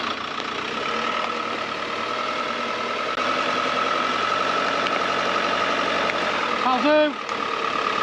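A Swift Kon-Tiki Sport 574 motorhome engine runs at a steady, close idle while the vehicle is eased onto wheel chocks, a continuous hum with someone speaking briefly over it and a short tonal squeak near the end.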